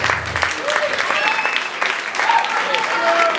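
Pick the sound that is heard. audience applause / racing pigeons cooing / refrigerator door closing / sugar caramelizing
audience applause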